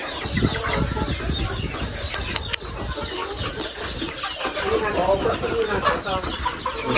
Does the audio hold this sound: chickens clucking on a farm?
yes